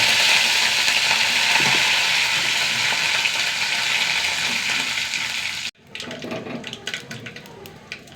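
Curry leaves, dried red chillies and mustard seeds frying in coconut oil for a Kerala sadya-style sambar tempering: a loud, steady hiss that stops abruptly near the end, leaving quieter clinks and rustling.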